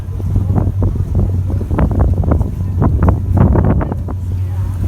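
Wind gusting across a boat on the Proserpine River during a crocodile tour, a loud continuous rumble and buffeting roar against the microphone, with a low steady hum beneath it.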